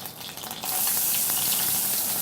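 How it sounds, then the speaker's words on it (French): Vegetables and onion sautéing in clarified butter for soup, a loud, steady close sizzle that jumps up sharply as the ingredients hit the pan and keeps frying. "on va faire revenir nos petits légumes pour la soupe"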